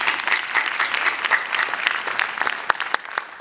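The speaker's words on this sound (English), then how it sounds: "so can we get a round of applause for her?" An audience at a film festival opening night applauds for an Emmy-winning composer, a short burst of dense clapping with a few sharper claps standing out near the end.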